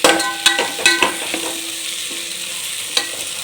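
Masala for paneer biryani, with a couple of spoons of curd added, fries in oil over medium heat, giving a steady close sizzle broken by several sharp scrapes and clacks of a spoon stirring the pan.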